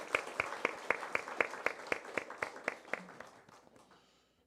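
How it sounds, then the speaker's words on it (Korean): Church congregation applauding after an Easter cantata, with fairly even, rhythmic claps heard from a distance that stay steady and then fade out over a few seconds. "우리 하나님께 영광의 박수 올려드리겠습니다"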